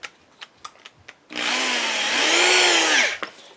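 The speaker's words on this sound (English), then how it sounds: "Okay, just got a drill bit," A handful of light taps and clicks come before a power drill bores into a cosplay shield, giving a loud, steady high-pitched whine that runs for under two seconds at close range and then cuts off.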